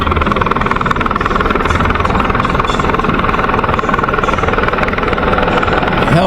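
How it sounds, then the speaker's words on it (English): A helicopter comes in to land near railroad tracks in Louisa, its rotor chop and turbine roar loud and steady throughout, close by with no talking. "Helicopter landing, but you can't see it too well"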